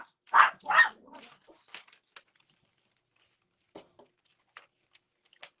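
A dog gives two sharp, loud barks in quick succession, followed by a scatter of faint yips and small noises in an otherwise quiet room.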